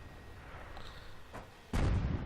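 A self-propelled artillery gun fires a single heavy shot in World of Tanks, a sudden loud boom with a rumbling tail arriving near the end after a quieter stretch of background noise.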